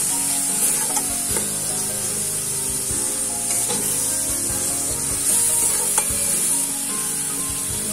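Tomatoes fry in a pan for mushroom masala, a steady loud sizzle with scraping and stirring strokes throughout, close up and without talk.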